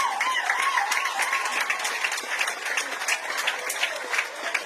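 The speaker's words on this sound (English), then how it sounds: "Big round of applause, ladies and gentlemen." Loud, dense applause from a large audience at a formal government event on hospital energy, steady clapping sustained throughout with no pause.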